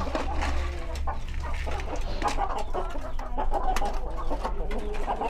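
Ratu Siam LHK chickens, a breed from Thailand, cluck continuously at close range in a busy chorus of short, overlapping calls.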